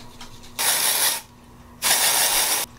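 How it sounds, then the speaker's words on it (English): Batiste brunette dry shampoo sprayed into hair roots in two loud aerosol hisses of about a second each, separated by a short pause, close up with no talking. "I'm gonna go in with my Batiste dry shampoo. I use the brunette one and I'm gonna spray this in my roots."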